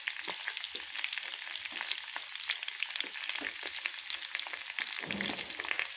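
Tomato frying in hot oil in a pan: a steady, bright sizzle crackles close and continuous throughout, with small pops and an occasional stir, and no voices.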